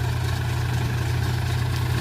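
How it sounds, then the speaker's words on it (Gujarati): A Sonalika 42 RX tractor powers a groundnut thresher on a farm, producing a steady, loud, low engine drone with a constant mechanical hum and no pauses. "મગફળીમાં ડબ્બો હાલે।"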